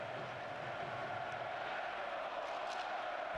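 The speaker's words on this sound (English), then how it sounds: "Crowd loving it though" Steady, dense roar of a hockey arena crowd at Stanley Cup Final Game 4 between the Florida Panthers and Edmonton Oilers, a continuous wash of cheering that holds at one level throughout.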